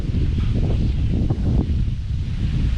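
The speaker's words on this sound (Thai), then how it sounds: "โอ้ลมเย็นมากเลย" Wind blowing steadily across a mountaintop temple shrine, a continuous close rush of air with microphone buffeting and no voices.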